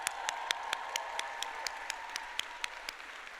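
Audience at the Rutgers Law School Newark commencement applauding for Walter, with sharp individual claps standing out in a regular rhythm over a dense, continuous wash of clapping from the crowd.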